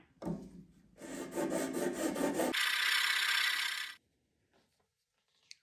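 An acoustic guitar bridge saddle is sanded down to lower the action, giving close, loud rasping strokes, first rhythmic back-and-forth rubbing, then a steadier higher hiss, before stopping into near silence.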